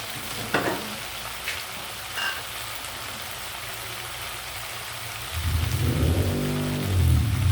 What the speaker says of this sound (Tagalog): Lagyan natin ng konting sabaw mga lala para lumambot yung ating gulay.